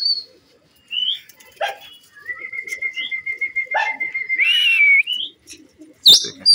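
Rangdaar fancy pigeons flying about at a farm in Multan, with brief bursts of wing flapping broken up by clear, sustained whistles in a quiet outdoor setting.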